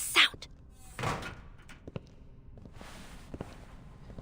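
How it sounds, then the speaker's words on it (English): A door is shut in haste: a sharp knock followed by a heavier thunk as it closes, then quieter shuffling footsteps and small bumps in an enclosed, echoing space. "She closes the door with haste"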